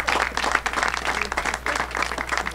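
Audience applause at an NJ Transit graduation ceremony for new engineer trainees: a steady, dense clatter of many hands clapping that holds for a few seconds with no voices over it.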